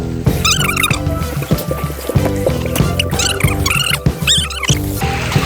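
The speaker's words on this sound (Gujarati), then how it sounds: "મિત્રો આપણે છત્રીમાં આવીએ છીએ છત્રીમાંથી પાણી પડે છે" Water splashes and pours down from an umbrella fountain at a water park, a loud continuous gush with bursts of bright spattering and overlapping rushes.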